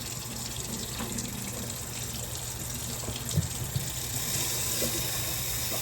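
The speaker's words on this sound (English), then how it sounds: "So what you gotta do is keep rinsing them off, and then make sure that the wings are clean." Water runs steadily from a kitchen faucet while raw chicken wings are rinsed before air frying. It makes a continuous close splashing rush with a couple of small knocks and no talk.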